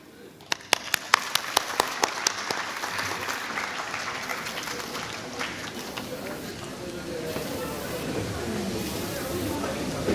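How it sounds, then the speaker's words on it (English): Audience applause at a university inaugural ceremony in India, a few sharp claps at first swelling into steady, dense clapping from a large gathering that carries on throughout. "with a huge round of applause"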